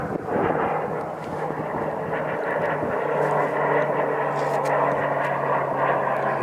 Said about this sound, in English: Look how cool this plane is.